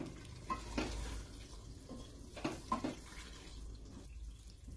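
Kachnar keema being stirred in a pan after fresh coriander goes in, soft scraping strokes repeating at an uneven pace over a quiet low sizzle, close and fairly faint.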